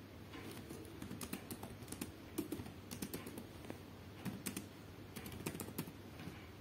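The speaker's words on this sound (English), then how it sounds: "and type the text." Keys tap on a computer keyboard in quick, irregular bursts while text is typed. The sound is faint and close over a low room hiss, with no talk.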